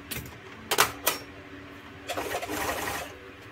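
An overlock sewing machine stitches fabric while closing a sack seam, heard as short loud mechanical bursts near the start and a longer rattling run of stitching toward the end, close and with no talk.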